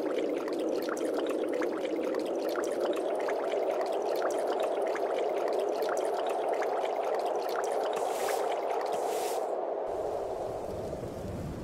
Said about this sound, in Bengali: বলতে না বলতে দেখছি বৃষ্টি চলে এসেছে